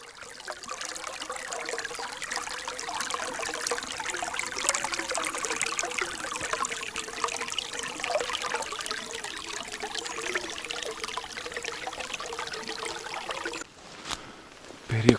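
River water trickles and burbles steadily beside a walker in a snowy forest, a close, continuous babble that briefly drops near the end before a few handling knocks.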